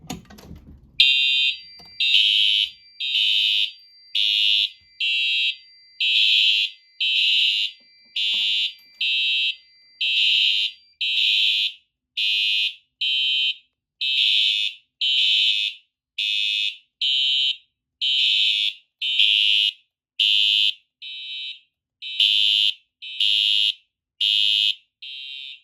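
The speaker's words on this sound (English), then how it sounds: "I'll go ahead and activate this pull station" A loud Fire-Lite MS-5UD fire alarm, triggered from a pull station, blares in a steady on-off pattern, regular electronic tones repeating for the whole stretch with no talking.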